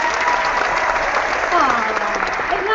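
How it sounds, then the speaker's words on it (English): A burst of applause plays as a sound effect, a dense steady wash of clapping throughout, with a voice speaking over it. "So clapping for you."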